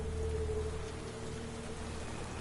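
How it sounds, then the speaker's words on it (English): Steady rain falls in the Death Stranding video game, a dense continuous hiss of drops with a faint low tonal hum beneath, even and unbroken throughout. "What type of rain is this?"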